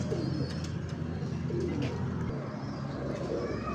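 A breeding pigeon coos softly and repeatedly, low throaty calls close by over a steady background hum, with no talk.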